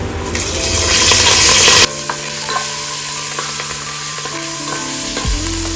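Curry leaves tossed into peanuts frying in hot oil for a Maharashtrian puffed-rice chivda give a loud burst of crackling sizzle that settles after a couple of seconds into a steadier fry, with stirring and a metallic clink near the end.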